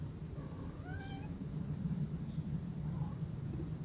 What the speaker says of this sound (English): And here is a kitty